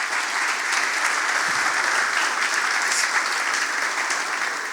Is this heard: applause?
yes